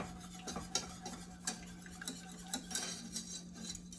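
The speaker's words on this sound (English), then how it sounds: "Whisk that in and let that cook until it thickens up again." A whisk clicks and scrapes against a pan as broth is stirred into a thickening sauce, a quiet, irregular tapping and swishing with a steady hum underneath and no talking.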